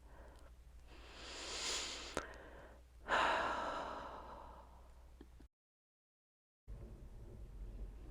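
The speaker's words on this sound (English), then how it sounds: "A few calming, relaxing breaths here." Slow, calm breathing of someone resting in yoga child's pose, with soft audible inhales and long sighing exhales close to the microphone, followed by a brief silent gap and then quieter room sound.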